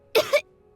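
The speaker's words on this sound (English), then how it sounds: "He kept coughing all the time, just like me." A video game character coughs, two quick harsh coughs close together, loud and close, with nothing else around them.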